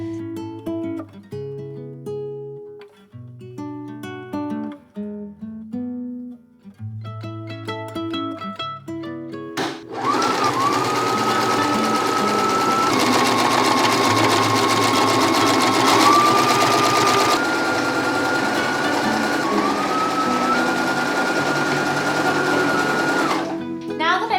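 A sewing machine stitching curtains runs loud and continuous for about fifteen seconds with small shifts in speed, following a stretch of gentle music.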